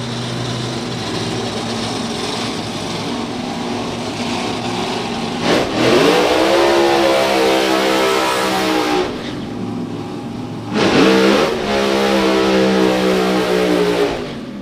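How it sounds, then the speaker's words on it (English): Two drag racing cars from Germany roar through burnouts, their engines howling loud and sustained with rising revs, then surging again in a second hard burst near the end. "So 2 crisp burnouts"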